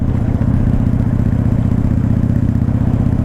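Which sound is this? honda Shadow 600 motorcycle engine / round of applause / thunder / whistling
honda Shadow 600 motorcycle engine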